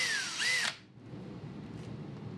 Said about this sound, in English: So just be very careful drilling in the side of your boat.